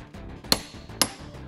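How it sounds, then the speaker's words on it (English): Bolt threads letting go inside a nut under heavy torque on a big-block Chevy engine build, heard as two sharp metallic cracks about half a second apart over quiet shop background. "Now that sound was obviously threads letting go inside this nut"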